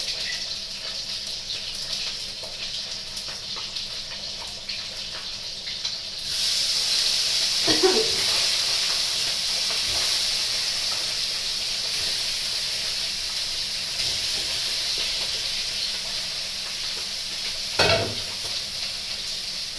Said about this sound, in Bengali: সেটা গরম হয়ে যাচ্ছে পর মাছটা ভাজা হচ্ছে